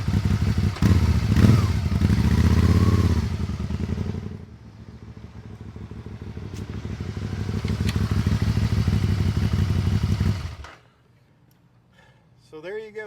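Can-Am Spyder three-wheeled motorcycle engine running on a test ride, a loud close rumble that eases to a steadier drone before cutting out, with a brief voice at the end.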